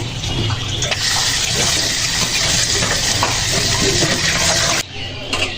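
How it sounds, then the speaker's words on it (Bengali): Drumstick (moringa) flowers rinsed under a running tap, a steady loud stream of water splashing continuously with small variations, then briefly cut lower near the end, with no talking. "সাজনির ফুলগুলো ধুয়ে নেব এবার।"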